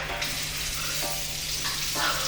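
Cold water runs steadily from a tap, a close, continuous rushing hiss with a low hum underneath and no voices.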